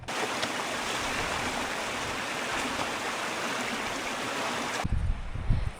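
A river in New Zealand's Leatham Valley flows steadily, a broad, constant rushing wash close by that holds at the same level throughout, then drops away in the last second under a few low knocks.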